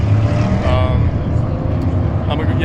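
Loud roaring engines of NASCAR stock cars drone continuously on a track, with passing cars' pitch rising and falling over a constant rumble.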